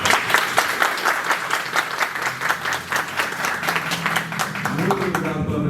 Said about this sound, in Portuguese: E palmas, por favor, para os nossos convidados.